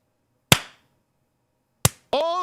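Two sharp, isolated claps from a World of Warcraft character ring out over silence about a second apart, and a brief tonal game sound follows right after the second.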